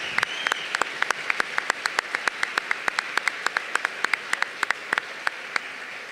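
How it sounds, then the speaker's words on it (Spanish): Sparse, distinct hand claps from an audience at a book fair conference in Buenos Aires, individual sharp claps spaced irregularly, fairly quiet with no talk over them. "Un fuerte aplauso para ellos."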